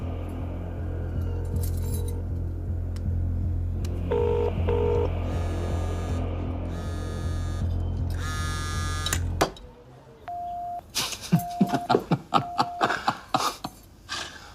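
A telephone on speakerphone being dialed, with steady hum and tones followed by a series of short beeping dial tones and clicks near the end, no speech.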